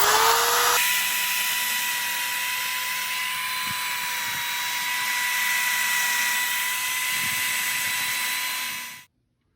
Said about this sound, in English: so I just kind of knock it off with the drill